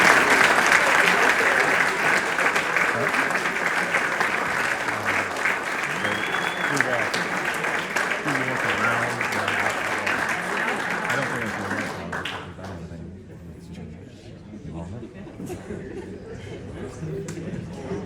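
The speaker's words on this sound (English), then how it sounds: "let's give these guys one more round of applause" Audience applause at an award night, a dense sustained round of clapping mixed with crowd chatter and voices that thins out toward the end.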